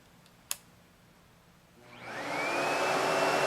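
A Sebo Felix vacuum cleaner is switched on with a sharp click, then its motor whine steadily spins up over about a second into a loud, continuous roar, close by with no talking.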